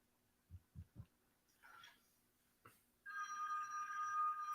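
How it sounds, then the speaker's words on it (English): A telephone rings in a scene from the 1984 horror film A Nightmare on Elm Street, coming in as a sustained bright electronic trill after a few low thumps and a short rustle. "And that noise it makes when it rings when it zooms in on the phone."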